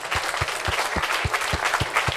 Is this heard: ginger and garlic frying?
no